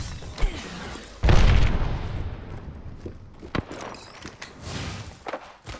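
An Arcstar grenade detonates in Apex Legends with a deep, heavy boom that rumbles and fades over a second or so, surrounded by scattered sharp gunshots and thuds.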